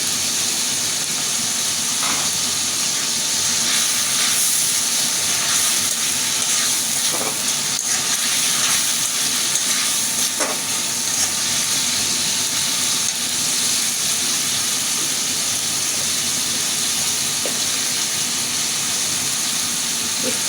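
Onion sizzles in a hot pan while cooking a chicken and meat curry, a continuous loud frying hiss with occasional faint clinks and no talking.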